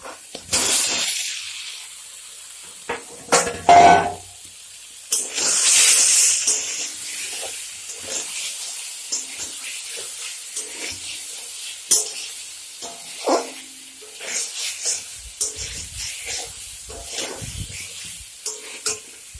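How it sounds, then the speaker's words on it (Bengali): Fried eggs and potatoes go into hot spices in a pan for a Bengali egg and potato curry, bringing a loud burst of sizzling and hissing that settles into a steady fry with stirring scrapes and clinks. "মশলাটা আমার ভাজা হয়ে গেছে, এখন ডিম আলু ভেজে রাখা দিয়ে দিব"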